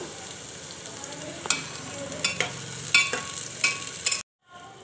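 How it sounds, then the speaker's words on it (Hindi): Potatoes and green chili sizzle in hot oil with garlic and onion, a steady close fry broken by sharp scraping stirs of a spatula, then a brief drop to silence near the end. "उसके बाद एक हरी मिर्च, लहसुन और प्याज डालेंगे, उसको भी अच्छे से भून लेंगे।"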